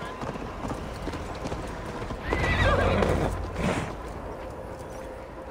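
Horse hooves clip-clop at a gallop in the video game Assassin's Creed Valhalla while a horse whinnies loudly in the middle, close and fairly loud.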